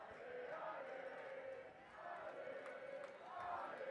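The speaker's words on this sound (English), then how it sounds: "Listen to this Quebec crowd." A home crowd backing Team Quebec at a Canada Games men's soccer gold medal match against Alberta, a dense continuous roar of cheering and chanting that swells in rhythmic waves, heard at a distance.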